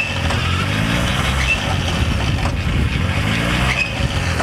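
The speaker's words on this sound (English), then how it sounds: "Look at that front end of the tractor come up." A tractor engine drones steadily and loudly as a skidding winch drags a huge, heavy felled tree with broken limbs, the low throbbing continuous throughout with no voices.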